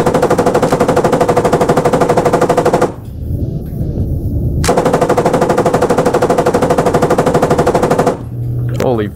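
Turret-mounted machine gun fires long sustained bursts in a combat setting, loud and close with rapid rhythmic reports, pausing briefly before resuming; a voice is faintly audible in the gaps.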